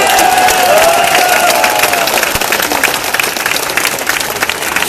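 A rally crowd in Melaka breaks into loud, sustained applause with scattered cheers and shouts, dense clapping filling the space at close range and holding steady throughout.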